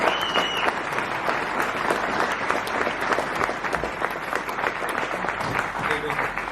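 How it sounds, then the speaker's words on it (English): An audience at a boxing press event claps steadily for a fighter, a dense, even wash of applause that holds at a constant level throughout. "nice round of applause please for Caoimhin Agyarko."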